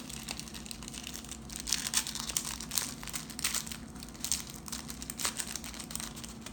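Stiff cardboard sleeve slid off a pack of Reese's Pumpkins, giving close, steady crinkling and scraping with small bursts of rustle, no voices.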